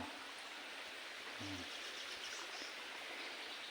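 Stream water flows and splashes among piled rocks near a small waterfall outdoors, making a steady, even rush of broadband hiss that goes on without a break and sounds fairly soft and close.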